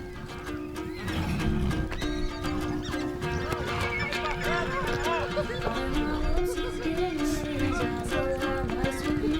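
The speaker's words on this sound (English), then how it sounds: "these horses were key in enabling Genghis Khan to create such a powerful army." Several Mongolian horses neigh and whinny loudly over the steady clip-clop of hooves, the calls rising and overlapping throughout.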